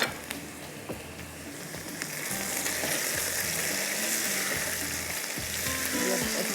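Arvi (taro root) pieces sizzling in hot oil in a home kitchen, a steady bubbling fry that grows louder and fuller after a few seconds, with occasional stirring clinks and no talk.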